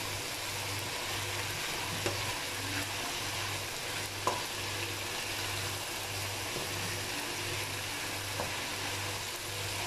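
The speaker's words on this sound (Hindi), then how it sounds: "दोबारा से मिक्स कर लें इसको अच्छे तरीके से।" Singaporean rice with spices being stirred in a hot pan, giving a steady close sizzle with faint scrapes and a low steady hum underneath throughout.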